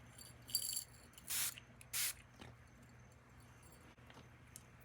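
Two short hissing bursts from a hand-held spray bottle misting a person's hands, each about half a second long and close by, with a fainter puff before them and quiet room tone in between.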